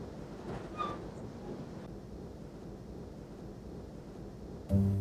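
A steady low rumble and roar of a train moving through a mountain tunnel, continuous and fairly loud, with a brief louder burst near the end.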